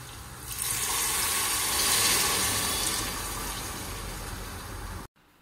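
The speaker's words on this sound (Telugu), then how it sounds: "ఇప్పుడు సరిపోయేంత వాటర్ యాడ్ చేసేసి ఒక 5-10 మినిట్స్ అలాగే బాయిల్ చేయనివ్వాలి" Water pours steadily into a pot, a loud rushing splash that swells briefly and then cuts off abruptly at the end.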